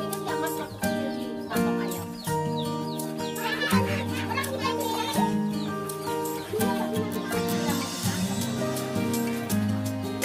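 Children playing and shouting loudly in a home yard as they chase tiny baby chicks. Their excited voices are close and continuous for the whole stretch, and faint chicken sounds may mix in.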